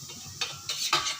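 Cauliflower 65 florets frying in a pan, with a few sharp clatters and stirring scrapes over a low background sizzle, moderately close.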